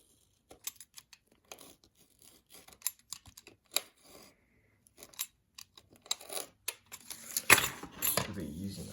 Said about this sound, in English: we'll be using our scissors, and we're just going to be cutting that.